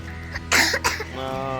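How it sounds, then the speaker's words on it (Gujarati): One close, harsh cough breaks out with a couple of quick bursts, followed by a faint humming voice. "ઉધરસ થઈ ગયું છે બેનને"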